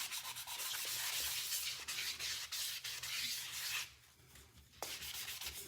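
Final sanding of a wooden jar produces a soft, steady abrasive rubbing, a fairly quiet scratchy hiss that continues with brief pauses, one gap lasting about a second before the sanding resumes.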